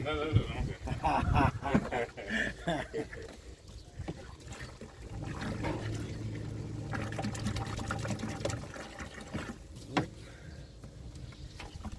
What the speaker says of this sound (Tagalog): Ito, nilagyan na natin ng tubig guys.